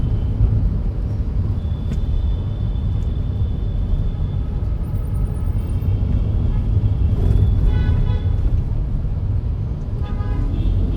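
Continuous road traffic rumbles around a rider on a Monday commute, with nearby engines, a short horn toot and a few faint higher beeps over the steady roar.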